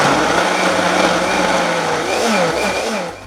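A kitchen blender grinds pear and onion with water into a fine purée, a loud continuous motor whir with shifting pitch as the contents churn, steady throughout and easing slightly at the end, with no voices.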